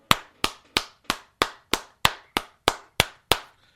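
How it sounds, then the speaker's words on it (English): Eleven slow, evenly spaced single hand claps ring out close and crisp, a deliberately sparse golf-style clap with no voices. "golf clap"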